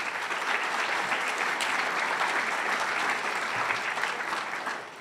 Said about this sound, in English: you should give yourself all a round of applause